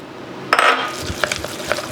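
A utensil scrapes and clinks against a bowl while minced pork wonton filling, seasoned with soy sauce, oyster sauce, sesame oil and cornstarch, is stirred in one direction; a brighter scrape opens, then a rhythm of soft repeated knocks.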